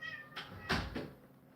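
Bebop, a mother cat in her room, gives a few short, close meows, the first drawn out and tonal and the later ones brief, with no talking.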